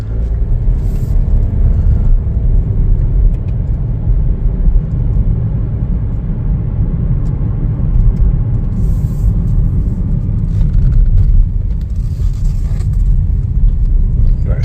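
A 2025 Chevrolet Trailblazer LT on a test drive produces a steady, loud low road rumble of engine and tyre noise from inside the cabin, continuous throughout without talk.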